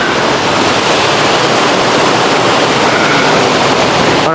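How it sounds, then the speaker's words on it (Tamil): Water rushing below at Ashok Vatika, a dense, loud, unbroken roar of flowing water filling the whole moment without pause. "கீழே பாருங்க தண்ணி ஓடுது"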